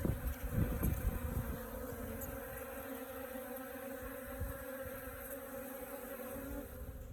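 Honey bees buzz frantically in a steady, close hum at a water source, with a denser burst of buzzing at the start and faint outdoor background throughout.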